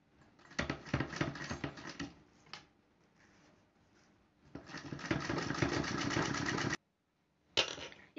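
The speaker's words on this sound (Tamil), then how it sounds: "அந்த தையல் மேலே தைச்சிட்டு வந்துடுங்க." A sewing machine stitches lace around a small fabric hand purse in bursts of rapid rhythmic clatter, pausing and restarting several times with quiet gaps between runs, close and fairly loud.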